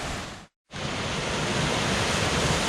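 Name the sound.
small waterfall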